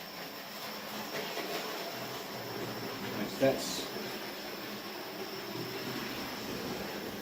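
A steady rumbling hum of a model train running on a layout, with a brief click partway through, while someone speaks briefly over it.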